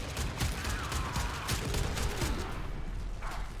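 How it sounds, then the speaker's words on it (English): Covering gunfire in Warframe, a rapid fusillade of sharp shots in quick bursts over a dense, noisy battle backdrop, fairly loud and continuous with a mechanical whine near the end. "it's time for some covering fire"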